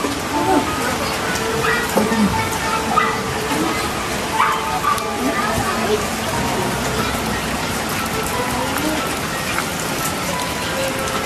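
A dog inside a house barks and whimpers in short bursts under steady rain, fairly close, while several people talk over it.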